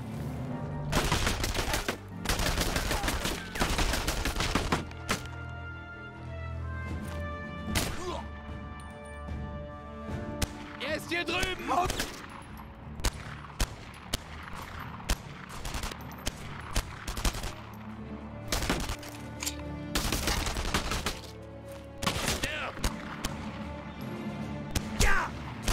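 Repeated gunfire in the World War II shooter video game Enemy Front, with loud bursts and single shots cracking through busy combat noise over the whole stretch, dense in places and with short gaps between volleys.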